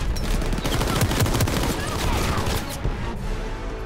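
Dense battlefield gunfire from Call of Duty WWII, rapid overlapping machine-gun bursts and shots around a tank engagement, loud and continuous, with shouted voices mixed in.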